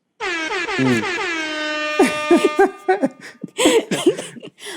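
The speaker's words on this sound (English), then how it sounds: "I'm sorry for all the air horns." A loud air horn blares with a long wavering tone, followed by a rapid string of shorter honking blasts.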